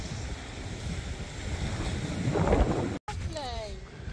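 Wind gusts roar against the microphone on the shore while sea fishing at low water near Eastbourne, with surf and waves washing underneath, a brief dropout, then faint voices in the background.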